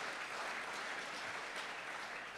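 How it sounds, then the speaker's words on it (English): Applause from the audience at a Kentucky Derby trainers' dinner, steady clapping from many hands, faint and somewhat distant, lasting a couple of seconds with no voices over it. "That's worth applause."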